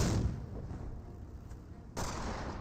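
Grenade launcher fire striking targets in Company of Heroes 1, heard as a loud, dense blast at the start that fades into a rumbling tail, followed by a second sharp impact near the end.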